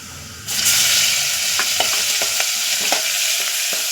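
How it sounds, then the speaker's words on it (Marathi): Crushed green chili paste drops into hot oil with cumin, and a sudden loud sizzle bursts up and holds steady while a spoon taps and scrapes the pan in irregular strokes. "त्यामध्ये आता जो हिरव्या मिरचीचा आपण ठेचा वाटलेला आहे तो टाकून घेऊया"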